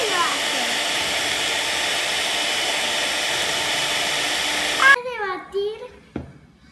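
An electric hand mixer whirs steadily while beating a yogurt sponge cake batter, a loud continuous drone that stops abruptly near the end, followed by a few brief spoken words.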